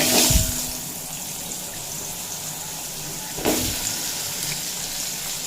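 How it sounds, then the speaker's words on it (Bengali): Bottle gourd pieces frying in oil over a high flame make a continuous hissing sizzle, moderately loud and close, with a couple of brief louder flares. "লাউগুলো হাই ফ্লেমে ভেজে নেব"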